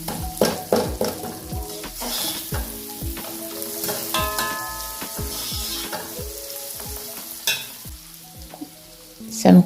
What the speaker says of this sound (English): See me struggling to now defrost this in the pot.